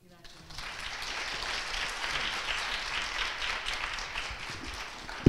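Lecture audience applauding a speaker after an introduction, steady broadband clapping from a crowd in a hall that swells quickly and holds evenly for several seconds, without talk over it.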